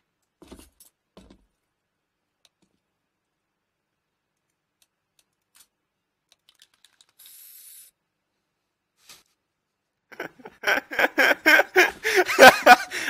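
A short hiss of spray paint from a graffiti spray in CS:GO sounds briefly amid mostly quiet game audio, followed by a stretch of loud rhythmic chuckling laughter.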